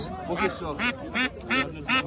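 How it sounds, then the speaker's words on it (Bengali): Ducks at a riverside market quack in a quick series of five loud, close calls with short gaps between them, and people talk faintly in the background. "চারটা মুরগি আর হচ্ছে 2টা হাঁস"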